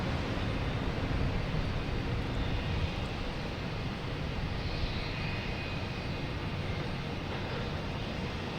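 A Lufthansa jet airliner moving at Boston Logan Airport, a broad steady engine roar heard from a distance, constant and unbroken for the whole stretch with no talk.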